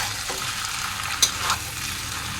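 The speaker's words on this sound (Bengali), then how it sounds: "মশলাটা আমার কষানো হয়ে গেছে।" Spice masala sautéing in a pan, a steady close frying sizzle with a soft scrape of stirring and a couple of brief clinks, no voices.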